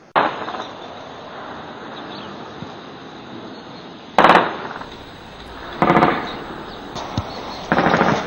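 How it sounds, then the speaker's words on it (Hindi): Small-arms gunfire exchanged across the Line of Control in the Chakoti sector of Pakistan-administered Kashmir: several sharp, distant bursts of shots separated by pauses over a steady outdoor hiss, with no talking. "पाक मकबूजा कश्मीर के चकोटी सेक्टर से हासिल हुए वीडियो में एलओसी पर फायरिंग की आवाजें सुनी जा सकती हैं।"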